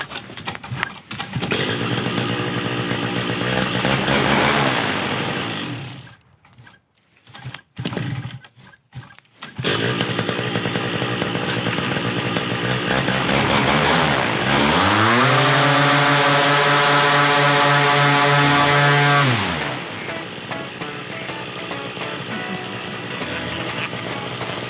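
A paramotor engine runs loud and close, its steady idle broken by a brief cut-out, then revving up through a rising whine, holding high and dropping back to idle.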